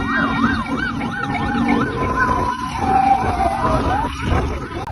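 Ambulance sirens wail and yelp continuously at a mass-casualty bus crash rescue, their rising and falling tones sweeping over a dense, noisy roadside scene with engine rumble, fairly close and loud.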